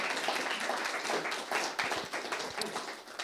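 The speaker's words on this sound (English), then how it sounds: "Round of applause." An audience claps and applauds at a church gathering, a dense burst of hand clapping that holds steady for a few seconds before thinning slightly, close and lively.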